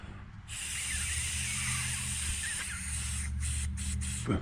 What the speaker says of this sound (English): I'm just going to blow through this end here and see if we hear air escaping.